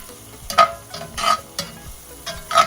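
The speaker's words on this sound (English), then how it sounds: "Saute that up." Spices for chana masala sautéing in a pan, with a steady close sizzle broken by several loud stirring scrapes in a rhythmic pattern, with no talking.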